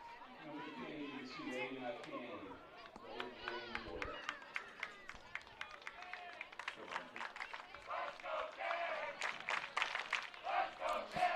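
A boys' soccer team cheers from the crowd at a Division II girls' regional playoff match, Neville Lady Tigers against Prairieville: scattered shouts and calls rising to a more energetic burst near the end, mixed with nearby crowd chatter and voices.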